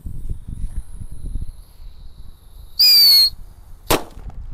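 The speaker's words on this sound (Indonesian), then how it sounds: "kali ini ada mobil mainan dengan mercon roket tikus tor atau mercon tikusan" A tikus tor rocket firecracker strapped to a toy car flares with a sudden shrill whistling hiss lasting about half a second, then a sharp crack follows moments later, preceded by soft outdoor rustling nearby.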